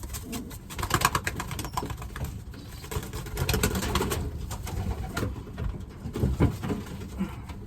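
Young wheat check pigeons cooing in a loft, a steady stream of soft overlapping coos with rustling and light tapping throughout, close and fairly loud, with no talk.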